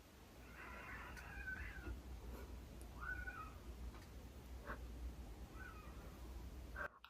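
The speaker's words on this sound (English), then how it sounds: "I just hear a bunch of cats just duking it out with each other" Cats fighting outside a house at night, with several drawn-out, wavering yowls rising and falling at a distance over a steady low background rumble, faint and without talk.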